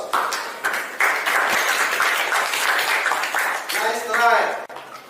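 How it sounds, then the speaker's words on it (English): Audience applause in a classroom presentation session, a broad steady wash of clapping lasting several seconds, with a voice speaking briefly over the end. "Give applause."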